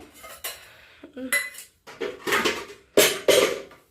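Plates and cutlery are handled in a home kitchen as two place settings are laid out, sounding as loud, close clattering bursts of metal and dishware clinks separated by brief pauses.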